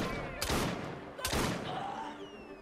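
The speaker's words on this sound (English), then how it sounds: "So I guess I go psycho now and start shooting everyone." Gunfire in the video game Assassin's Creed Syndicate: two loud, sharp bursts of shots about a second apart, each with a ringing decay, over steady game background.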